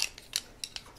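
A craft blade slices through paper in a few short, crisp scraping strokes, each one quick and close, with quiet pauses between them and no talking.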